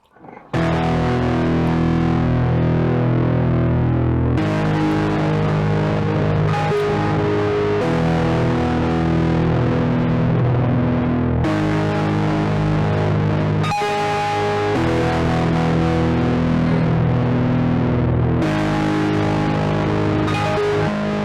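Harp strings plucked through a heavy distortion pedal, producing a thick, sustained, buzzing wall of chords that rings loud and continuous, with sharp breaks where new chords start.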